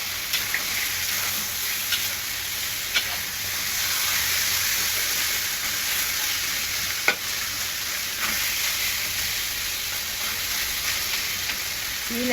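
Chicken pieces sizzling and frying in a wok, a dense continuous hiss with occasional soft spatula scrapes and clinks, no talking.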